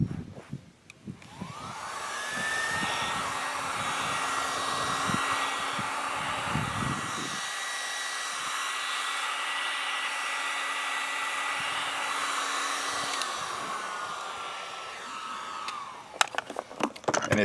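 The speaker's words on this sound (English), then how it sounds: "so that's why I'm using a heat gun on this" A heat gun blows with a steady, loud whooshing roar that spins up, holds for several seconds, then winds down, with a few clicks and knocks around it, during an RV bathroom fan installation.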